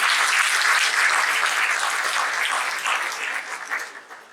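Audience at a talk on travel and over-tourism breaks into applause, a dense, even wash of clapping from a large room that holds strong, then gradually fades out.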